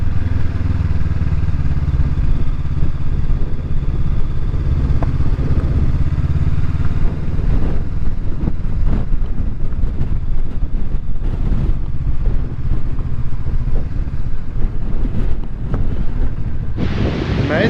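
A motorcycle rides over a rough track near Crowsnest Pass, Alberta, its engine a low steady drone buried under loud, blustery wind buffeting the microphone, with rattles and bumps growing busier toward the end.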